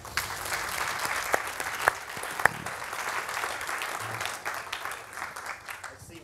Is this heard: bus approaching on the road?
no